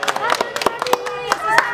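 Preschool children at a Sunday school worship class clap in a quick, uneven rhythm, close and fairly loud, mixed with singing voices.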